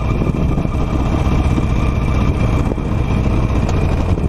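A Harley-Davidson Nightster motorcycle engine pulls hard through second gear downhill, a loud, close, rough continuous roar with a deep rumbling throb throughout.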